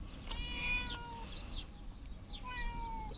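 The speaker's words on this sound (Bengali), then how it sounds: "তাই এই যে বিড়াল দেখেন।" A white cat meows twice at home in Oman, with a short call early on and a second drawn-out meow near the end, clear and close over a steady background hiss.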